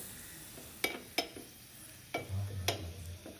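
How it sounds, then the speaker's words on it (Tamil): Cashews and raisins roasting in a pan over a low flame, a quiet hiss broken by several sharp scrapes and clinks as a spoon stirs them. "ரெண்டையும் சேர்த்து லோ ஃப்ளேமில் வச்சு ஒரு 2 நிமிஷம் அந்த முந்திரியெல்லாம் வறுபடுற வரைக்கும்"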